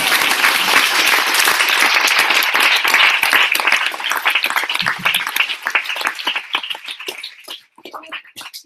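Lecture audience at a PSU.GD show-and-tell talk bursts into loud, dense applause that holds steady, then thins into scattered individual claps and fades out near the end.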